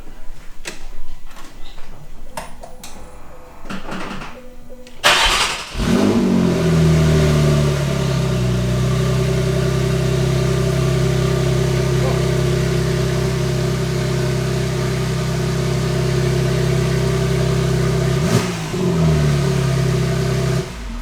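Porsche 991.2 GTS fitted with a Shark Werks exhaust fires up and holds a loud, steady, deep rumble close by, with a sharp rev blip near the end; clicks and handling noises come first.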